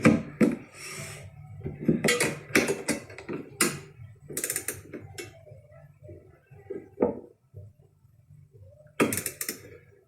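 Fitting for a wind deflector on a 2019-or-later Chieftain motorcycle being tightened down, a quiet, close run of intermittent clicks and ratcheting taps with scraping contact between them and short pauses, no talking.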